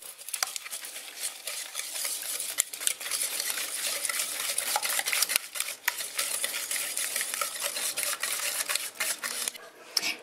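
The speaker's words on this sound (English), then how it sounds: "in a bowl I'm going to combine 125 ml of olive oil, 110 grams of light golden brown sugar, and 2 eggs, and just whisk them up." Olive oil, light golden brown sugar and eggs are whisked together in a bowl, giving a rapid, continuous clatter and scrape of the whisk for a carrot cake batter, close and fairly quiet.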